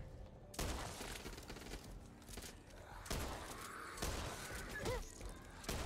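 Bursts of rapid gunfire in the zombie shooter Back 4 Blood, dense and continuous with several sharper volleys, loud and close, with faint voices briefly audible.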